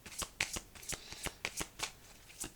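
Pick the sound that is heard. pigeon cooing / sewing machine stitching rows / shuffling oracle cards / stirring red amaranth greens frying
shuffling oracle cards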